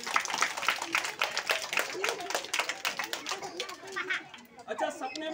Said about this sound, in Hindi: जोरदार तालियां आप लोगों के लिए